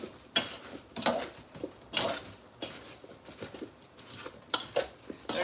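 Seasoned cooked rice being stirred in a pan, with about eight sharp utensil scrapes and clinks against the metal coming in an irregular rhythm, close and fairly quiet, with no talking.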